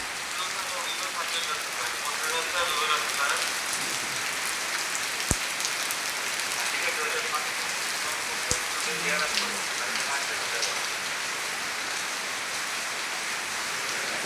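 Heavy rain falls in a dense, steady patter with a couple of sharp, close drips, and a voice can be heard faintly in places.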